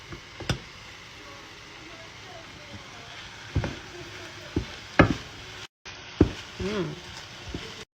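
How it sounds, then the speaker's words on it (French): Vegetables and trout in cream being stirred into rice in a pan, with soft scraping and clinking of a utensil against cookware over a faint sizzle, scattered irregular knocks, fairly quiet and close. "Là, on va mélanger ça avec le riz."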